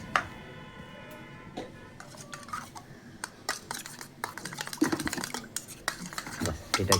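A spoon stirs coriander leaf chutney mixed with chili powder in a bowl, giving a run of sharp metallic clinks and scrapes that grow busier and louder toward the end, close by with no talk.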